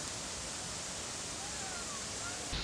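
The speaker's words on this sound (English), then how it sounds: "hear the peaceful roar of the water" Steady, loud roar of Baring Falls waterfall in Glacier National Park, a continuous broadband rush of falling water heard close by without a break, with a slight surge near the end.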